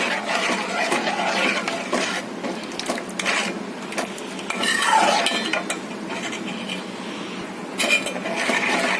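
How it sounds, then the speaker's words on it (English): A utensil stirring and beating mango pudding mixture in a pan, with continuous scraping and light clinks against the pan, close and steady with no talk. "And you can keep beating it like this so that there are no lumps formed"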